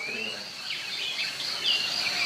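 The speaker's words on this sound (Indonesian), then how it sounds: "Ini kedengaran nggak suara burung, suara apa?" Birds chirp and sing outdoors in a steady, high, busy chorus, with scattered calls overlapping at a moderate distance and no talking.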